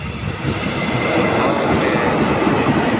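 A commuter train rumbles loudly and steadily past a platform at Ngadiluwih station, with a couple of brief high metallic squeaks over the heavy rolling noise.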